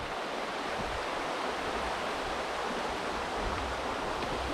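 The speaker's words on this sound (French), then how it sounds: "regardez la rivière qui est là" Continuous broadband rush of flowing river water, steady and even throughout, moderately distant, with no voices.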